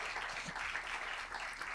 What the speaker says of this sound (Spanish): Un aplauso para Pedro Pablo